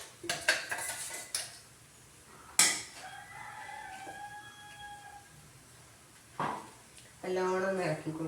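Metal spoon clatters and scrapes in a pan while kappa thoran, boiled cassava with crushed coconut and leaves, is stirred, loud clanks at the start and mid-clip, with a rooster crowing faintly in the background.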